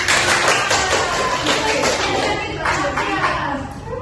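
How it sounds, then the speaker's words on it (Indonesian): Students in a classroom give a round of applause for a classmate, a dense, steady patter of many hands that stays loud for about four seconds before tapering slightly at the end. "Kasih tepuk tangan untuk Mbak."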